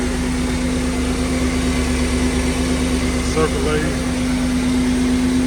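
A 1992 Camaro RS engine runs steadily just after being cranked following a water pump replacement, a constant idling hum with a strong low drone, while someone speaks briefly over it.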